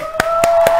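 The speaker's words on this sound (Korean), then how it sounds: "하나님께 박수를 영광." A church congregation claps three sharp, evenly spaced times in unison, loud and close, over a sustained musical tone.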